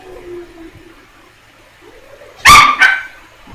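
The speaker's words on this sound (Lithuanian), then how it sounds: "Atsiprašau šuns lojimą." A dog barks twice in quick succession, loud and close, after a quiet stretch with faint background hum.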